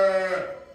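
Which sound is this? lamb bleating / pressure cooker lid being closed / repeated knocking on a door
lamb bleating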